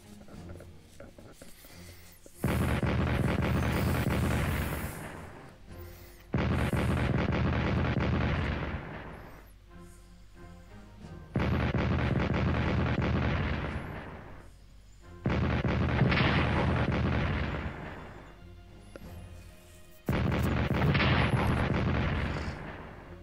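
Heavy artillery fire in a World War I game arrives as five loud sustained barrages, each several seconds long, separated by quieter gaps with a faint ambient rumble.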